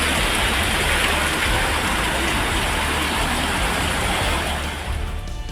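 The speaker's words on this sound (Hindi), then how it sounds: "जोरदार बारिश से पूरे रतलाम में सैलाब आ गया।" Heavy monsoon rain pours down in Ratlam during flooding, a dense, loud, unbroken hiss of water with faint road traffic underneath that eases slightly at the very end.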